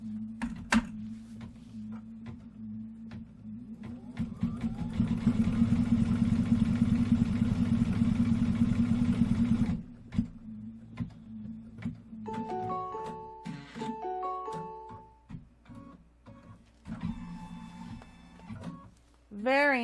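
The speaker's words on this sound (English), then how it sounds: "let's put the foot down and stitch out this tack down line" An embroidery sewing machine stitches a tack-down line in green thread on a Kimberbell quilt block, a steady close mechanical whirring clatter for several seconds, followed by short electronic beeps and lighter clicks, with a person talking between sounds.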